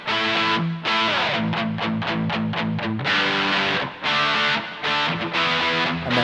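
Saturated electric guitar through a Mad Professor One high-gain distortion pedal with the gain at about twelve o'clock: quick picked notes and chord stabs, then longer sustained distorted chords with brief gaps, loud and with no talk.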